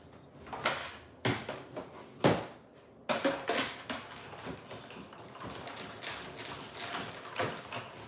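A die-cutting and embossing machine feeding cardstock in an embossing folder: a series of nearby clunks, clicks and mechanical rattles, some sharp and loud, then a steadier grinding stretch of rolling and knocking.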